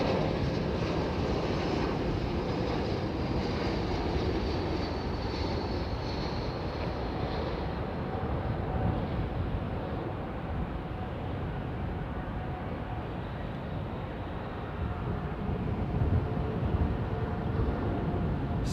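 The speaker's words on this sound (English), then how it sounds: "Nice 777 going up there" A Boeing 777 jet climbs away from runway 09, its broad, steady engine roar filling the scene continuously at a moderate distance, with no voices over it.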